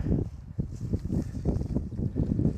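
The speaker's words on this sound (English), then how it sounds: "You see it's very windy out" Steady wind buffeting the microphone outdoors during exterior concrete stencil work, a low rumbling roar with gusty swells throughout, close and fairly loud, no voices.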